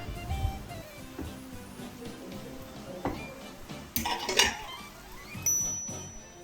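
Chicken keema cooking in a covered pan, with steady low sizzling under scattered clinks of metal utensils and lid, a few sharper clanks standing out near the end.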